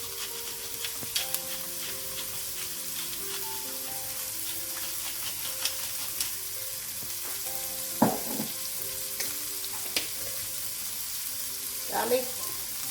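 Chopped onion sizzles steadily in hot oil in a pan, a continuous bright hiss with a few louder crackles and pops and the odd utensil clatter, with no talking.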